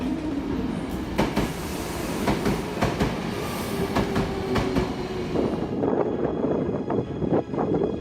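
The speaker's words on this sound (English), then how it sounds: "When a high-speed subway train collides with them" A high-speed subway train rumbles past with steady low roar and rhythmic clatter, a faint squeal of wheels rising in the middle, loud and close throughout.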